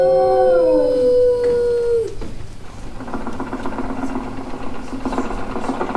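A dog named Rover howls in one long wavering note that fades out after about two seconds, followed by a low mechanical engine-like hum and clatter in an animatronic theater show.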